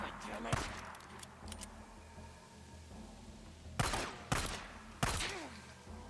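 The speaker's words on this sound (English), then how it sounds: "How many gunshots do you need?" Gunfire in the Days Gone video game: a few sharp, loud shots near the start, then three heavy, booming blasts in the second half, spaced about a second apart over low game ambience.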